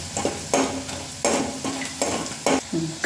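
A spoon stirs spices, onion and garlic chutney in a pan with repeated scraping strokes and metal knocks roughly every half second, over a soft sizzle.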